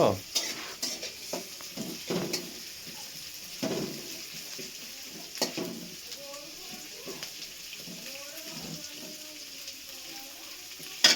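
Onions frying in a pan with a faint steady sizzle, broken by scraping stirs and light utensil clacks against the pan, fairly quiet and close.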